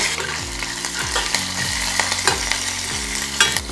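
Urad dal, mustard seeds, cumin and curry leaves are tempered in hot oil, producing a constant close crackling sizzle with tapping and scraping stir sounds, and a repeating tonal background hum underneath.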